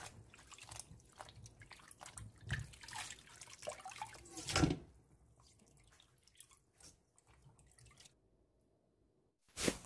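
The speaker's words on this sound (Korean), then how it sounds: "삶은 나물을 찬물에 두번 깨끗이 헹구어 줍니다" Boiled wild greens rinsed by hand in cold water: irregular splashing, squishing and dripping, with a louder slosh midway, a stretch of near-quiet trickle, then a final splash at the end.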